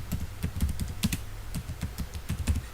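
Computer keyboard keys pressed one after another in a steady run of crisp, close clicks, with no voices, while typing symbols with the shift key.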